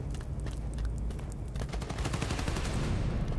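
Rapid bursts of gunfire from the Spider-Man: Miles Morales video game rattle continuously, dense and loud, building into heavier volleys toward the end with a low rumble beneath.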